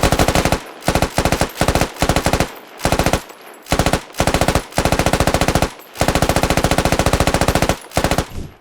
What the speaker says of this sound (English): And the machine gunner MG3 with no sight. And as always, the sound of that thing is so impressive.